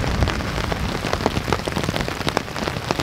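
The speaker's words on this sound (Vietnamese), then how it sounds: "Đây ở ngoài bờ hồ là mưa trắng xóa luôn nha các bạn." Heavy rain pouring at a lakeside campsite, a dense steady hiss of drops drumming on surfaces with scattered sharper spatters, loud and continuous with no voices.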